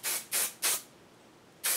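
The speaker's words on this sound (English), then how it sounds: "And then I'm going to spray." Three quick hissing bursts of Kenra hairspray close by, a short pause, then a fourth spray starts.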